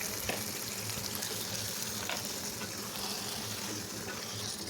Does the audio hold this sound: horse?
no